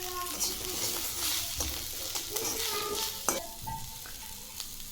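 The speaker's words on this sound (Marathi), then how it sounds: "आता हे व्यवस्थित परतून घेऊ" Rice-and-vegetable dish stir-fried with roasted peanut powder, red chilli powder, turmeric and salt, giving a steady sizzle with repeated spatula scrapes and knocks against the pan, close up.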